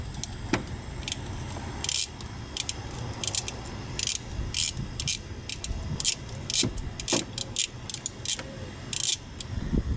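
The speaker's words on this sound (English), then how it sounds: "Then you're going to take an 8mm socket and loosen up this screw here on this hose clamp." An 8mm socket ratchet loosens the screw on a hose clamp under the hood of a 1997-2004 Ford F-150 during a thermostat change, giving close, repeated metallic clicks and clinks in short irregular bursts.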